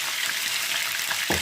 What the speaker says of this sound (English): Now I'll add my onions and my garlic to fry.